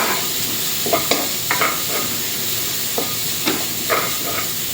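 Pork ribs being stirred and dry-roasted in a pan for a Thai curry, scraping spatula strokes recurring every second or so over a soft steady sizzle.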